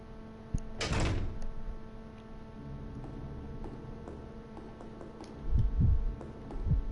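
A door opens in Resident Evil Zero HD with one loud mechanical clunk, followed by quiet ambient hum and a pair of low thuds near the end.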